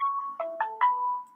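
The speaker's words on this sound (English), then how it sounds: "Dan, your stupid ringtone's going" Brief phone ringtone going off, a short melodic electronic phrase of a few stepped tones lasting just over a second, clear and close with no talking over it.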